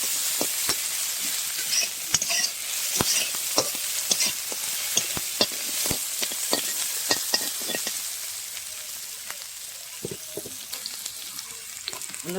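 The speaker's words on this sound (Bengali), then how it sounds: "এবার আমি দিয়ে দেবো পেঁয়াজ কুচি, পেঁয়াজটাকে ভালো করে নেড়ে ভেজে নেব।" Chopped onion being stirred and fried in a pan, with a steady sizzle and frequent sharp scrapes and clicks of the stirring utensil, close and alone.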